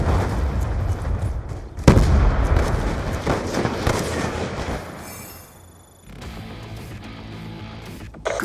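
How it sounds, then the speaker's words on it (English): Grenade blast in the Black Ops 2 shooter, a sharp burst followed by rumbling debris and gunfire-like crackle, fairly loud, with in-game noise after it. "throwing grenade!"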